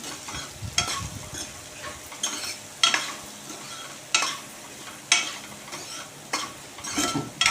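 Bitter gourd being stirred with salt in a frying pan, a steady sizzle broken by about eight sharp scraping stirs spaced a second or so apart, close and fairly loud with no talking.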